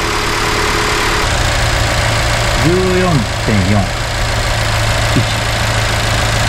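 A Nissan C27 Serena S-Hybrid Highway Star engine idles steadily after warm-up, a constant low hum under someone speaking close to the microphone.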